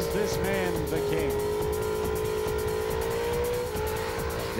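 A car doing a burnout at the Summernats burnout competition, its engine holding a loud, sustained high rev with screaming tires, while crowd noise and a voice come through underneath.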